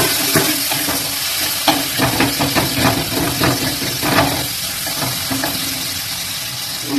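Dry fish masala in a pan sizzles as water goes in, a loud steady hiss with scraping stir strokes and bubbling, close and without talk.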